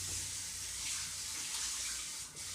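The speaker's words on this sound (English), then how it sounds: "Get you some water from out the faucet." Tap water runs from a faucet to wet a towel for hair grooming, a steady, even hiss that continues unbroken for the whole stretch with no voices over it.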